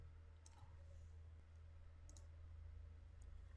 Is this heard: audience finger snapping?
no